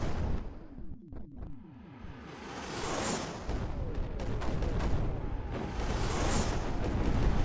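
A rocket pad launching in the video game Flotsam: a loud, rushing roar with a burst of rapid crackling blasts, then a sustained noisy rumble full of sharp pops that swells again toward the end.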